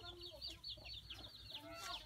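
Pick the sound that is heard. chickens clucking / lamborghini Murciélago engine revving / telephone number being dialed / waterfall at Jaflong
chickens clucking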